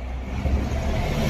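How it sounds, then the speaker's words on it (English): A city bus passing close by on a street, a steady low engine rumble and road noise that swells slightly midway and fills the short moment without any talking. "sorry, that was a bus"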